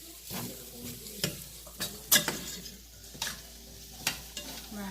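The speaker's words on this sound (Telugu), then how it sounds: "కొంచెం అల్లం వెల్లుల్లి పేస్ట్ వేస్తున్నాను." Ginger garlic paste fries in a pan with a soft, low hiss, broken by several sharp clinks and scrapes of a spatula stirring against the metal at an uneven pace.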